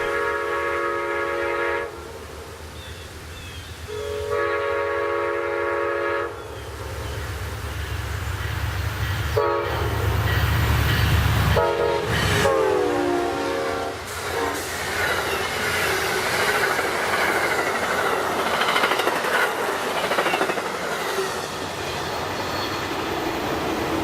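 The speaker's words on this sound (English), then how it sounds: "Now let's watch as this special consist passes our camera" A special train passes close by at a railroad crossing, with repeated loud horn blasts, a heavy rumble of wheels on rails, and squealing flanges as the cars roll past.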